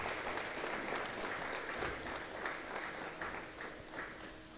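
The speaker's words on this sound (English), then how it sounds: "Can we give them a round of applause," A lecture audience applauds its speakers, a continuous wash of many hands clapping at moderate volume, sustained and fairly even throughout, with no voices rising above it.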